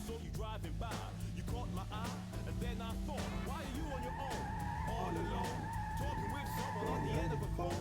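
BMW car skidding in the Metropolis Street Racer video game, with tire squeal and engine sound running under game music and synthesized voices throughout.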